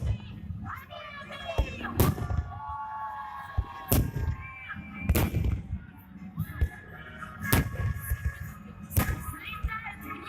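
Victory Day fireworks salute in Dmitrov, with sharp booming bursts at regular intervals of about two seconds and whistling rockets between them, alongside a crowd and voices.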